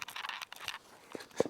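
Dave's Hot Chicken strips bitten into with a couple of short, crisp crunches late on, close and fairly quiet, after some soft rustling and handling noise.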